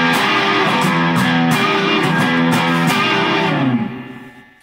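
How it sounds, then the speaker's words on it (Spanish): Distorted electric guitar chugs a strummed rhythm, thick and loud up close, with repeated evenly spaced strokes before the final chord slides and fades out. "Esto con distorsión suena así."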